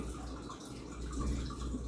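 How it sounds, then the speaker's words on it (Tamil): Water poured into a tamarind mixture in a pan gives a soft, steady trickling wash with faint dripping, continuous and fairly quiet throughout. "ஒரு கால் கப் அளவுக்கு தண்ணியையும் ஆட் பண்ணி"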